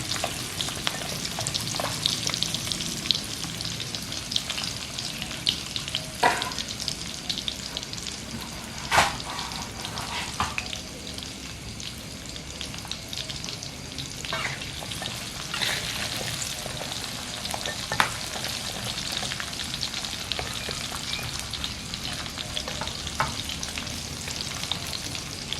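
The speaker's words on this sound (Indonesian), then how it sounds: "Terakhir goreng jengkol." Jengkol beans fry in a pan with a constant close sizzling crackle, punctuated now and then by louder pops and stirring knocks, no voices heard.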